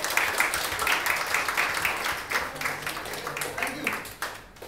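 Audience applause at a Startup Grind Karachi event welcoming Farhad Karamally, managing director of Fnckventures; steady clapping from a seated crowd fills the whole stretch, fairly close and moderately loud, fading slightly near the end.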